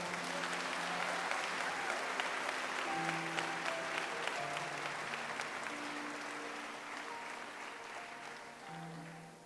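Church congregation applauding at a revival service, a sustained wash of clapping from many hands that holds steady throughout and tapers slightly at the end, with no talk over it.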